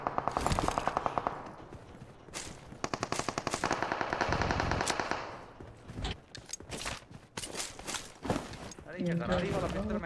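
Gunfire in PUBG Mobile, dense rapid bursts of shots with pauses between volleys and a few single cracks, loud and close, with brief speech near the end.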